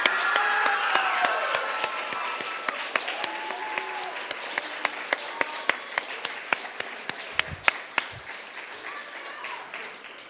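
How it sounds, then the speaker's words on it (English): Sustained audience applause fills a school band awards program, steady clapping throughout with a few sharper individual claps standing out near the end. "Could we have a round of applause for Scott Kurzweil?"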